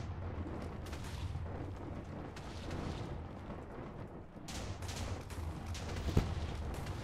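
Ivy Mike nuclear bomb detonation in modded Minecraft, a continuous loud roaring rumble of blast and destruction, with a fresh surge of crackling noise partway through and a sharp bang near the end.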